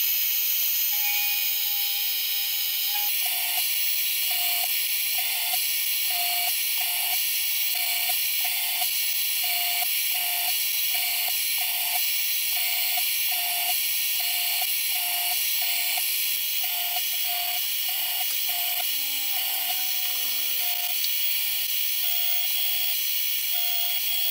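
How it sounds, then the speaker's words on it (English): A milling machine cuts a slot into a metal part for a homemade sheet metal punch and die, a steady loud whir with a regular rapid chattering pulse from the cutter running throughout, no voices. "I'll get it in the milling machine and get a slot cut for the cutter."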